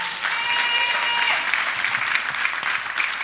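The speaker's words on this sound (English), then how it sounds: "Let us clap for Jesus." Church congregation clapping together in steady, dense applause that fills the room for a few seconds, loud and close, with no talking over it.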